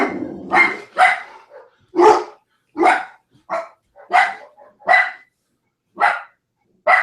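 A dog barks repeatedly in sharp, fairly close bursts, around ten barks spaced irregularly at roughly half-second to one-second intervals, with no talking over it.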